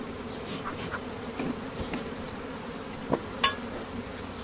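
Honey bees hum in a continuous low buzz around an open hive during a CO2 varroa test, with a few faint clinks and knocks and no talking.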